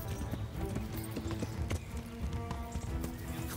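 Horse hooves clip-clop steadily in the medieval game Kingdom Come: Deliverance, a quick continuous trot close by with a faint whinny mixed in.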